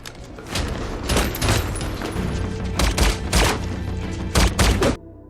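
Bursts of rapid gunfire from a film shootout crack and boom in clusters, loud and dramatic, with heavy thumps between volleys before cutting off abruptly.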